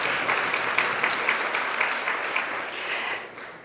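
An audience at a Houston political celebration claps briefly, a fairly faint, even patter of hands that fades out after a few seconds.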